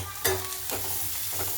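Turmeric, coriander and cumin powder are stirred into fried onion in a hot pan, with continuous sizzling and a few distinct spatula scrapes against the metal, close and without talking.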